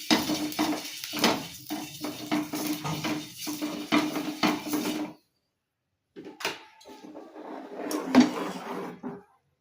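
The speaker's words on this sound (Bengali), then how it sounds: "তেলটা মাখিয়ে দিচ্ছি" An eggplant stalk rubs oil around the inside of a wok while making patishapta, giving close, repeated scraping and knocking with brief clatters, a pause of silence, then more scraping.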